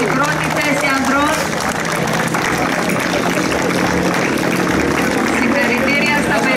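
Applause from a gathered crowd honours the men's first-place winners at a 3-on-3 tournament final trophy ceremony, a dense, steady clatter of clapping that holds loud and unbroken throughout.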